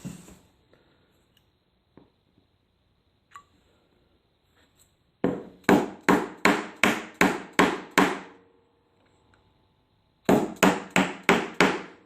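Dovetail pins for a cabinet are chiseled down by hand in two bursts of sharp mallet strikes: seven evenly spaced close taps, a pause, then four more, after faint scattered knocks.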